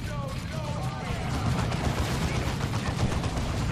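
Gunfire in the Dawn of War II video game crackles in dense overlapping bursts, a steady rattling barrage with a faint voice mixed beneath it.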